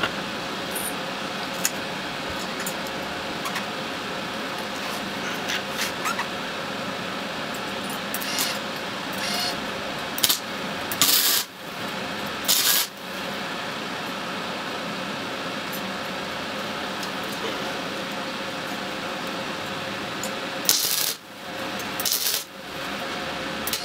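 Tack welds join the sides of a steel square frame held by a magnet, steady electric crackle and hiss broken by brief loud bursts and short gaps.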